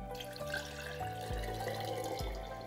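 Room-temperature water pours steadily into a vessel for an orchid, a continuous splashing stream with the pitch shifting in steps as it fills, close by and alone.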